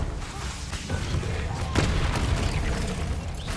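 Bombarda explosion spell cast in the Hogwarts Legacy video game, a muffled booming blast rising out of steady game noise and music, with one sharp burst near the middle.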